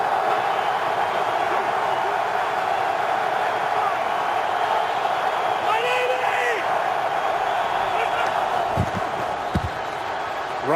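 Steady roar of a large stadium crowd at an NFL game between the Dallas Cowboys and New York Giants, continuous and loud throughout with a brief rise midway and a few sharp thuds near the end, broadcast voices faintly underneath.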